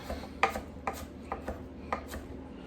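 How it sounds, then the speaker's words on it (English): Knife slicing through ingredients for a turkey brine, likely aromatics, on a cutting board: four or five separate chopping strokes, close and moderately loud, spaced about half a second apart, with no talk. "now that we have this, we're going to slice it down"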